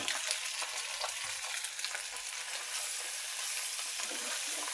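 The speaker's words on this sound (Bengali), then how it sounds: "এই যে পাস্তা সিদ্ধ করা ধুয়ে রাখা পাস্তাগুলো ঢেলে দিলাম" Boiled, rinsed pasta sizzles steadily in a hot pan, a bright continuous frying hiss with occasional stirring scrapes, close and without talk.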